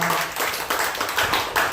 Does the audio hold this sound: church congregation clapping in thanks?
yes